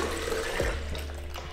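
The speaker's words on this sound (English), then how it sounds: "we're pouring our juice into our Omega blender cup." Homemade anti-inflammatory juice with orange, pineapple and apple poured into an Omega blender cup, a steady close liquid stream running throughout.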